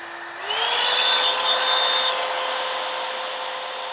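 A Hot Tools Black Gold Volumiser blow dry brush switches up to heat setting 2, a steady close motor whine and rushing airflow with a rising tone at the start, then holding loud and even alone.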